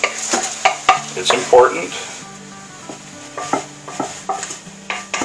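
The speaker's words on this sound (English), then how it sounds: "so this has been sauteing for about 5 minutes" Food sautéing in butter in a pan for a turkey meatloaf, with stirring and utensil scrapes and knocks against the pan over a steady background sizzle while a person talks briefly.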